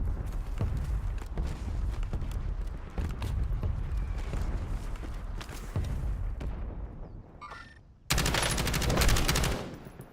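Gunfire in a Fortnite match. Repeated bursts of shots run almost continuously, then break into a sudden loud, fast automatic volley near the end.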